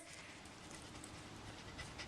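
A small dog panting softly and rapidly in quick, breathy rhythm, close but faint, with no talking.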